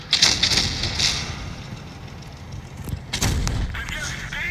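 Tank cannon shots from WoT Blitz boom with sharp, heavy reports, one near the start and another about three seconds in, over a low, steady engine rumble.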